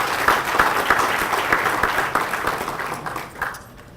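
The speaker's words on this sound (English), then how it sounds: "Please give them a round of applause." An audience at a Memphis MLK commemoration applauds the event's sponsors, with steady, dense clapping that holds for several seconds, then thins and fades near the end.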